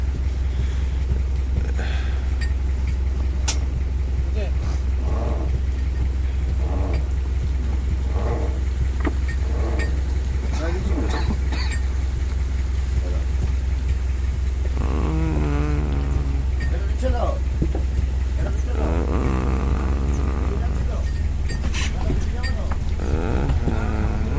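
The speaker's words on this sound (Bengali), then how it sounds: "সুন্দরবনের ভোরের দৃশ্য বোট চলছে ধীরে ধীরে" A boat chugs slowly through the Sundarbans mangrove waterways at dawn, its steady engine drone low and continuous throughout, with soft chirps and voices faintly layered over it midway.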